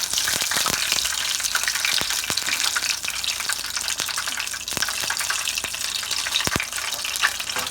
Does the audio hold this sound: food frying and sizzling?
yes